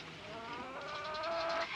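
Hens nearby give soft, faint clucks and murmuring calls, a brief string of gentle, repeated notes.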